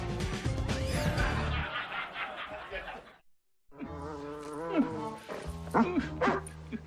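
Dogs bark and yelp in short, pitch-bending bursts on a Lethal Weapon film set, with voices talking over a busy background before a brief pause.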